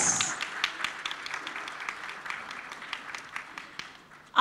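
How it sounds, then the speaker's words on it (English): An audience at the India Web Fest Season 4 panel discussion claps, a thin, moderately distant patter of scattered hands that tapers off before a brief loud burst at the very end. "Please give a big round of applause."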